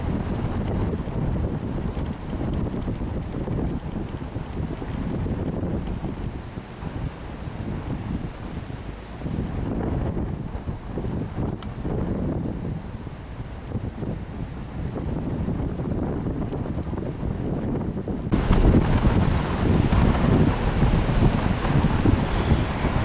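Strong wind buffets the microphone in a constant low roar, gusting harder near the end, with faint water or waves beneath, outdoors at Ostroszowice, Poland.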